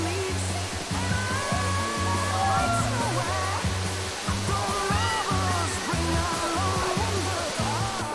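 Steady roar of a waterfall in a narrow canyon in Albania, a constant broad rush of falling water with music playing over it throughout.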